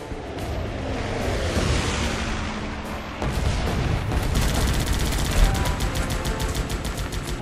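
Sustained gunfire and booming blasts from a Guns Up! combat game, with rapid machine-gun bursts growing denser and louder partway through, layered over a continuous rumbling battle bed with no talking.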